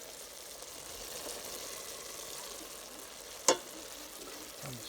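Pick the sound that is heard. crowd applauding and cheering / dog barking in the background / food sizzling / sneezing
food sizzling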